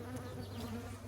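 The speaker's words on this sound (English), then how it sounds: "very healthy bees it looks like." Honey bees buzzing around a healthy backyard hive on a homestead, a close, dense, continuous hum with no voices.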